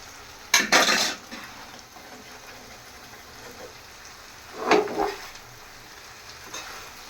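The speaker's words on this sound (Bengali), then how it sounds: "এখন আমি চাউমিনটা মিক্স করে নিতেছি" Chow mein is stirred and tossed in a pan, with two distinct bursts of scraping and clatter over a faint steady background hiss.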